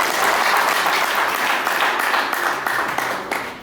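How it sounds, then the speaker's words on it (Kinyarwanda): Wedding guests break into sustained applause, a dense, steady wash of many hands clapping together that holds loud for several seconds before tapering slightly at the end. "muhuze ibyo biganza byanyu bikaba amashyi maze bikagabana amajwi tubashimire"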